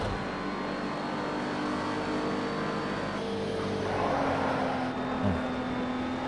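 GT3 race car engine in Project CARS 2 at Spa, a continuous droning roar with shifting pitch as revs rise and fall, steady and fairly close throughout.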